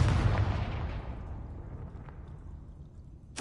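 In Hogwarts Legacy, a Confringo spell bursts in a loud fiery explosion that opens the clip and decays over a few seconds into a fading rumble.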